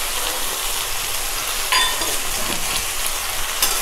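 Bottle gourd and green chillies fry in a hot pan with a steady, loud, dense sizzle that holds throughout, broken only by a brief utensil tick near the middle.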